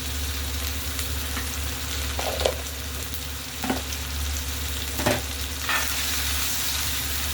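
Curry leaves crackle and sizzle in hot oil alongside tomato for a Telugu chana dal tomato curry, a steady close frying hiss broken by a few brief stirring scrapes, with a low hum underneath.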